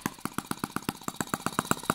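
Small Microcosm T1/T26 Chinese model gas tractor engine, freshly rebuilt and running in, chugs at a slow, steady idle with evenly spaced firing pops, close and clear with no talk.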